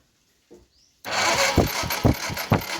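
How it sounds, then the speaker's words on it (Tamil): A TVS StarCity motorcycle's self-starter cranks with its spark plug cap removed. After a brief silence, a loud, rough whirring kicks in with a steady run of heavy, rhythmic chugs as the engine turns over without firing. "இப்போ செல்ஃப் அடிக்கும் பாருங்கள்."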